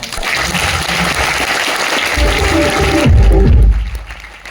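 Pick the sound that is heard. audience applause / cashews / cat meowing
audience applause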